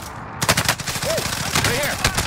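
Rapid automatic gunfire in a multiplayer shooter, loud and close with sharp repeated cracks in quick succession, with brief voice fragments in the background.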